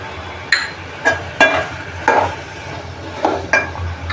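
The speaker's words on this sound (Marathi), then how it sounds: "आता आपण चांगलं होतं हलवून घेऊया टोमॅटो" Tomatoes being stirred in a pan with a utensil, several separate scraping and clinking strokes at an uneven rhythm over a faint background sizzle, close by, with no talking.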